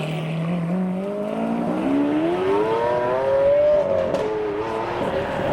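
A Chevrolet Bel Air drives past at an outdoor car meet, its engine note climbing steadily in pitch as it accelerates by at close range, fairly loud and continuous.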